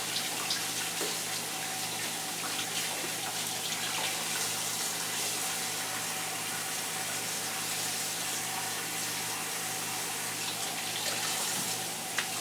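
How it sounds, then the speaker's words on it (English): Heirloom orange tomatoes rinsed under a running kitchen tap, a steady, even rush of water flowing continuously at moderate volume with faint clinks near the end. "we're going to rinse it out really good so that we have some wonderful orange tomato here"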